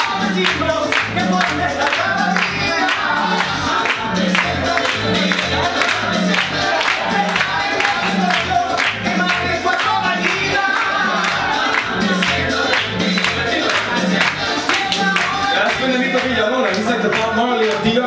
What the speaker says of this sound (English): Give it up for Oveous. Clap as Oveous comes